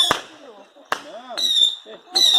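Fireworks go off at a family party: sharp, close bangs followed by whistling, crackling bursts in quick succession.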